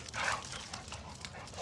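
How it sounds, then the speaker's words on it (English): Bully breed dogs in a kennel make brief canine whimpers and yips, close by, with a low steady background rumble and no clear talk. "Some good dogs as y'all can see"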